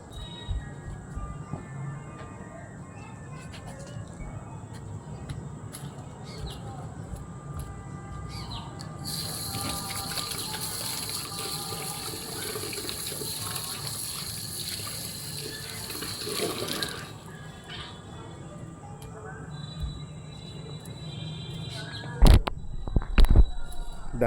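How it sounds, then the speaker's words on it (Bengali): Water poured from a container onto a potted plant, a steady close gushing splash lasting several seconds amid outdoor ambience with birds, followed by a few sharp knocks. "একটু জল দিয়ে দিই"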